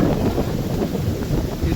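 Strong storm wind gusting across a rooftop terrace near coconut palms in a Krishna riverbank village: a steady, loud roar of buffeting rumble that fills the whole moment without a pause.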